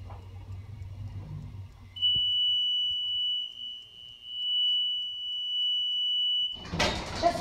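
An elevator at KOP Mall sounds a steady, pure electronic tone as the car approaches a floor. The tone holds for several seconds over a low hum and ends in a brief burst of noise.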